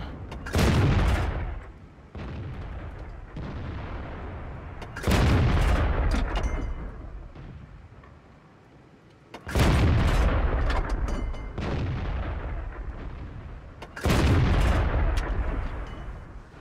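Tank cannon fire in the World of Tanks video game, four heavy booming shots spaced several seconds apart, each with a sharp crack and long rumbling decay, loud and without talk.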